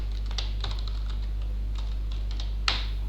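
Someone types on a computer keyboard while programming, with a run of light, uneven key clicks over a steady low electrical hum and one sharper tap near the end; no voices.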